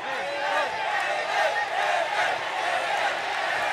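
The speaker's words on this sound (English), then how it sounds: "And here's the crowd getting behind him in unison." A mixed-martial-arts arena crowd roars and chants together in a steady, sustained wall of voices.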